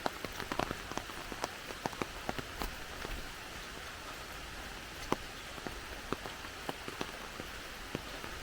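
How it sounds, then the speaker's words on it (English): Steady rain falls on a wooded hiking trail near a boardwalk in Cuyahoga National Park, with a constant soft hiss and scattered sharp drips and drops striking close surfaces, without talk. "it's raining"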